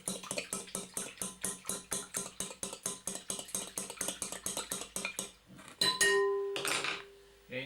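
Two eggs are whisked in a bowl with a fast, even run of about thirty clinking strokes against the side, then a pause, a ringing tap and a final scrape.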